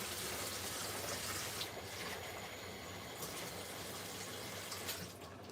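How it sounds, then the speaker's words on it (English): Water pours steadily into a pot of thick okra soup in a home kitchen, a continuous close splashing gush that lasts throughout with slight changes in flow. "I'm going to add a bit of more water because I don't like my okra soup to be too thick"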